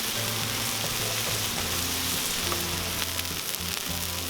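Burgers sizzle on a Cuisinart 360 griddle outdoors, a dense, steady frying hiss with scattered pops and crackles, fairly quiet and continuous with no voices.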